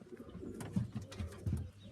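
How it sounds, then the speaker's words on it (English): Young pigeons coo softly in an aviary, a few low, throaty burbling calls repeating close by with quiet rustling between them. "The young birds are in the aviary."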